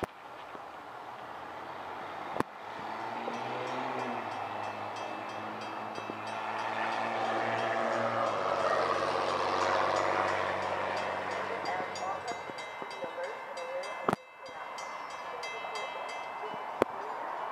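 An NJ Transit train pulls into Bradley Beach station, New Jersey. A low rumble and droning engine tones swell as it nears, then ease off, with occasional sharp clanks and clicks from the tracks.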